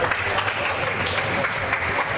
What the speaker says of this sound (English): a round of applause for Martin Mulkerns here, who's a crowd favorite